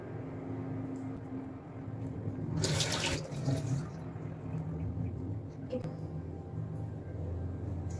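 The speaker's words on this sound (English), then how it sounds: "And then we're gonna wash it off." Tap water running at a sink while someone rinses cleanser off their face, a steady splashing wash with a brief louder gush in the middle, close by.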